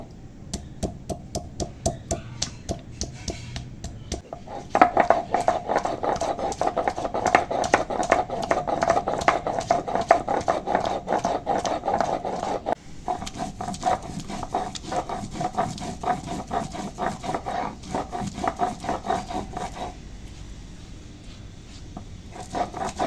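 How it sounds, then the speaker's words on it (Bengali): Whole cumin and ginger are crushed together on a grinding stone, a steady run of rhythmic scraping and knocking strokes, close and moderately loud, continuing throughout with brief pauses. "এখানে একটু গোটা জিরে আর আদা নিয়েছি একসঙ্গে বেটে নেবো"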